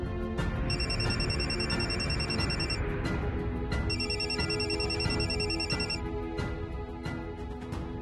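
A telephone rings in two repeated bursts of bright electronic tones, separated by a short pause, over a low steady background hum.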